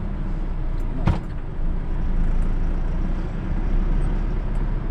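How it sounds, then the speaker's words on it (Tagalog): An oncoming car on a rural shortcut road in Tarlac, heard as a steady engine and road rumble with a brief sharp knock partway through, loud and close. "Naku, may kotse."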